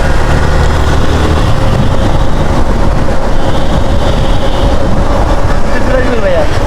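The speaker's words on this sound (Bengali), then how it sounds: "উপর দেখি মেট্রো রেল যায়" A metro rail train runs on the elevated track above a road in Mirpur, Dhaka, giving a steady loud rumble that blends with dense street traffic noise, with no talk in the clip.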